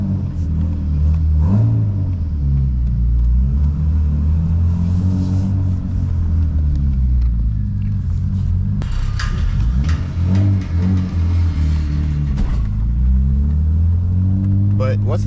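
A BMW E36 with its check engine light on idles with a deep, rumbling engine, then revs and pulls away, the low drone rising and falling as the car drives, with occasional rattles nearby.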